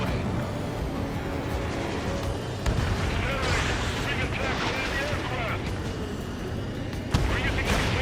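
In Ace Combat 7, a missile launches and explodes amid the steady roar of a jet, with sharp blasts and rumbling booms close by over continuous engine noise.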